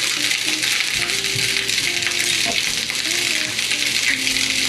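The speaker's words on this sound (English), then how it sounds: "Okay, it's getting fried." Mushroom fried rice sizzles in a pan, a dense steady crackling hiss with occasional scrapes and clinks of stirring, close and loud throughout.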